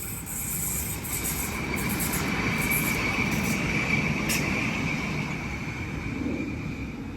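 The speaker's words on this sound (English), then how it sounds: "Looks like one of the light rail vehicles is making its way back." A Parramatta light rail vehicle passes by on its test run, a steady rumble of wheels on track with a faint high squeal, rising and fading gently over several seconds with no talk.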